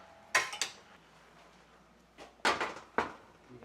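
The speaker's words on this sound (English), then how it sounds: "now this goes in the oven" A dish of blueberry raspberry swim biscuits goes into the oven, with a couple of metallic clanks and rattles, a pause, then three louder knocks of rack and door close by.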